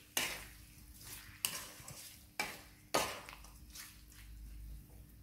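Chilli chicken frying in a pan, stirred in four distinct scraping strokes over a continuous sizzle, close and moderately loud, with no talking.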